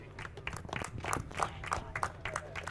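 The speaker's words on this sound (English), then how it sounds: "Can we have a big round of applause for Mr. Jayan Bhosle?" Applause at a cricket award ceremony, a crowd of scattered hands clapping in a brisk, moderately distant patter for a few seconds.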